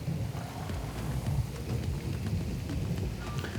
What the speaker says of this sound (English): Well, the thunder's here, the lightning's coming.